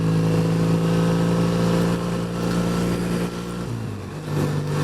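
Classic motorbike riding along Loch Ness, a loud, close engine drone holding steady, then shifting down in pitch and dipping before picking up again.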